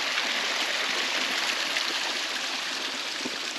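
Water from a natural spring seep trickles and streams in a steady, even hiss, close and unbroken, with no voices.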